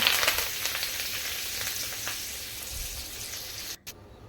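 Curry leaves sizzling and spitting in hot oil with asafoetida while cabbage sabzi is cooked, a loud steady crackle with no talk that cuts off abruptly near the end.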